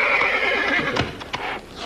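Horse neighing close by, a single loud shrill whinny that trembles and falls away, followed by a few brief snorts and shuffling noises.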